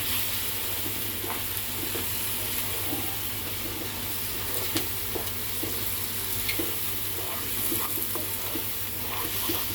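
Boiled eggs fry in masala in a pan, a continuous close sizzle with scattered scraping and clicking stirring sounds throughout.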